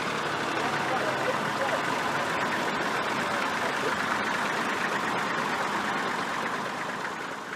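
A vintage Massey Ferguson 35 tractor engine idles with a steady low rumble throughout, at moderate distance with outdoor background noise at a ploughing match in Western Australia.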